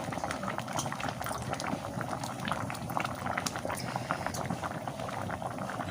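Little millet rice porridge with leafy greens stirred in bubbles at a steady rolling boil, a dense, continuous close patter of popping bubbles with no talk.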